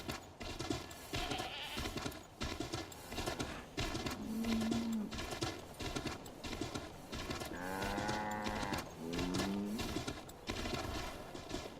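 Rhythmic hoofbeats of a galloping horse in Assassin's Creed 3 pound steadily throughout, with occasional animal calls layered on top, fairly loud and close.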